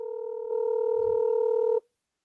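Steady two-tone ringback of a telephone on an outgoing call, a continuous loud tone lasting under two seconds before cutting off abruptly, heard alone.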